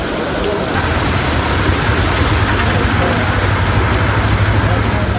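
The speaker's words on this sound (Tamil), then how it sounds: "மன்னார்குடி சுற்றுவட்டார பகுதிகளில் கனமழை பெய்தது" Heavy rain pours down steadily around Mannargudi in Tamil Nadu, a loud, dense hiss of drops that holds unbroken for several seconds over a low, constant rumble.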